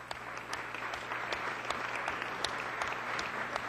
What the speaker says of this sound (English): So give all of those staff members another round of applause.